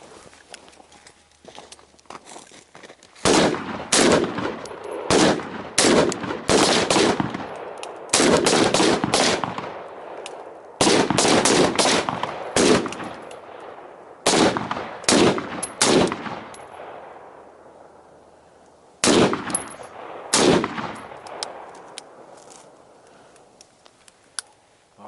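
Rifle fire rings out on a shooting range at night in sharp, loud bursts of rapid shots, with the clusters separated by short pauses and a few single cracks toward the end.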